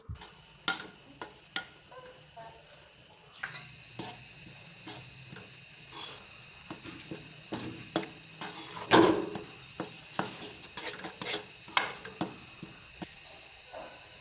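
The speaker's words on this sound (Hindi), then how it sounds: "अब हम दोबारा कढ़ाई चूल्हे पे रख के इसमें कैरमल जो है वो ऐड कर देंगे और इसको अच्छी तरह से मिक्स करेंगे।" Semolina milk halwa with caramel stirred in a kadhai on the stove, a series of soft scraping and tapping strokes of the spoon against the pan over a low sizzle, with one louder clatter midway.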